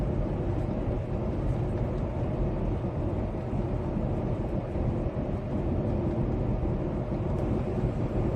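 Car cruising down a road, a steady low rumble of engine and tire noise holding constant without pause, no talking over it.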